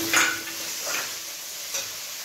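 Fried paneer drops into a hot pan with salt and turmeric and is stirred, giving a few bright scraping clatters over a steady sizzle, fairly close.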